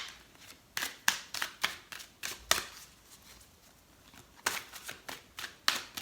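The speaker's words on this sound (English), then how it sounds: "I'll go to the Oracle cards" Oracle of Wisdom oracle cards shuffled by hand, a run of crisp riffling slaps in quick irregular bursts, a short lull, then another flurry of shuffles, close and clear with no talking.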